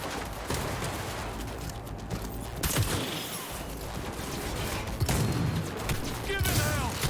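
Gunfire rings out during a street firefight in Cyberpunk 2077, a dense, busy stretch of shots and clatter mixed under shouting voices, loud and continuous across the whole scene.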